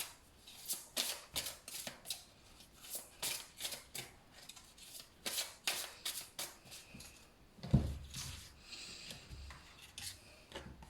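Cards shuffled up close in soft repeated rubbing bursts, a rhythmic slide-and-slap pattern broken by a sharper tap around the middle, then quieter handling.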